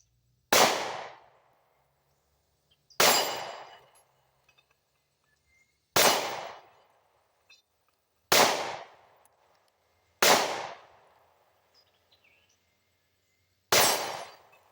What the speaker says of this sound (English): The first shot gonna be tricky.